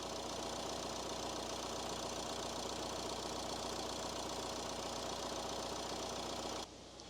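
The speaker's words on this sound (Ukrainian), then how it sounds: "Двигун працює справно, прислухайтеся, зайвих шумів немає." A 2014 Nissan X-Trail 1.6 dCi diesel engine idles with a steady, even mechanical rumble and faint ticking, running alone at constant loudness until it shifts near the end.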